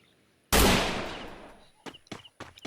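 Gunfire in the mobile game Free Fire, starting with one loud blast that slowly fades. Several shorter, quieter shots follow in uneven succession.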